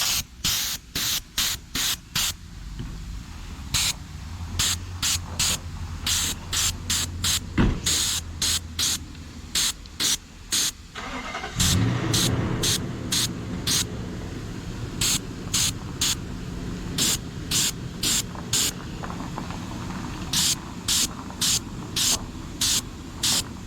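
Spray can applying white paint to a skateboard deck, a long series of short hissing bursts in a steady rhythm, close and loud, with a longer continuous spray in the middle.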